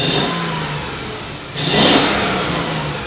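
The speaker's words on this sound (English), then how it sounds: "There is a misfire, you may be able to hear." A Mercedes SL500 V8 engine with a misfire runs unevenly at idle, then surges in a short rev before settling back, heard close and alone without talk.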